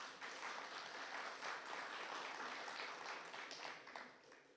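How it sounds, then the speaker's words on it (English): Audience applause at a church annual meeting, a steady, fairly quiet wash of many hands clapping together that fades out toward the end. "So a big round of applause for that."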